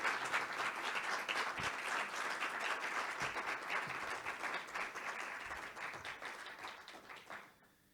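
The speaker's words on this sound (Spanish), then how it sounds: "quiero que nuevamente le brindemos un gran y afectuoso aplauso" Warm, sustained clapping from an audience at a lodge lecture event, fairly faint and even, tapering off and stopping near the end.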